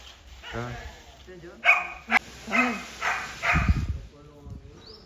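A dog barks a few times at night, short sharp yips mixed with a faint whimper, mid-distance, heard under and between people chatting.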